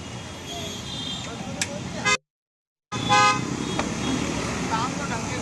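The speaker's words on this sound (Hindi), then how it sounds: "वो प्रेशर हॉर्न जो अलग से हॉर्न लगाए जाते हैं" Loud add-on vehicle pressure horns blare in bursts amid road traffic in Noida, India, cutting off abruptly for a moment before honking again nearby.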